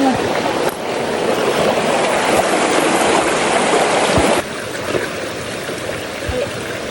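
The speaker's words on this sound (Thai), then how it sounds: "ทางนี้เราจะปล่อยน้ำนะคะ" Water released into a small dug channel during the rainy season rushes and gurgles close by in a loud, continuous wash that eases slightly partway through.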